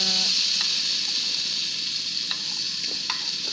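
Tomatoes, green chillies, peas and onion frying in masala give a steady close sizzle with a few light stirring clinks, no voices over it.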